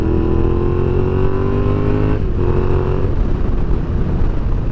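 Yamaha Tenere 700 adventure motorcycle engine running loud and close while riding on the street, a steady drone whose pitch climbs smoothly, then dips briefly as the throttle eases and settles again.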